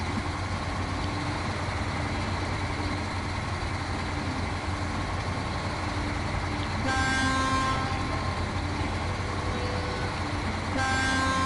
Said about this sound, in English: The horn on this sounds like it came off a fucking truck.